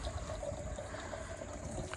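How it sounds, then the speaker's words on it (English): Water trickling down the pipe of a cheap hydroponics system, a faint, steady gurgling flow that goes on without a break and has no voices over it. "we do have water going down the pipe"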